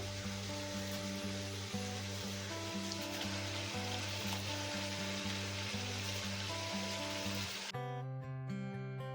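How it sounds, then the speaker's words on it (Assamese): Water for chicken biryani boils in a pot with a dense, even bubbling hiss that continues without pause and shifts in tone near the end, with no talking. "এয়া মোৰ বিৰিয়ানীৰ কাৰণে পানী উতলি গৈছে"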